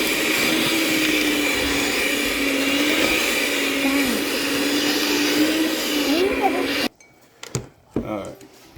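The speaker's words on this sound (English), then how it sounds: "And now we're gonna get the mixer out" An electric stand mixer kneads pizza dough with a steady, loud motor whir for most of the clip, then stops abruptly and leaves a few quieter clinks and knocks.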